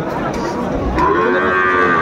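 A Sahiwal breed bull calf moos at a cattle market in Comilla, one long, loud, close call over a busy crowd murmur.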